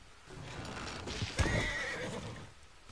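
A horse in Red Dead Online whinnies loudly and close, with hoof clip-clops and background noise around it.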